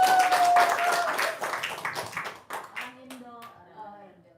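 Audience clapping at a stage show, a dense burst of applause in the first seconds that quickly thins out and fades as voices take over.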